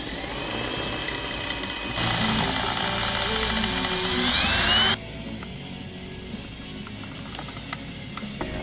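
A power drill bores into an LED light, a steady close whine and grind that steps up in intensity partway through, then cuts off to a quieter hum with faint clicks afterward.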